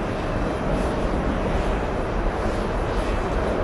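Aircraft on a runway, a loud, steady jet engine roar with dense broadband rumble throughout and no talking.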